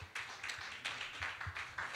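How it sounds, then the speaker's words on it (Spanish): Applause rings out at a Spanish-language church service, a burst of overlapping hand claps from a congregation in rhythmic, uneven waves, fairly close and sharp. "Un aplauso al Señor."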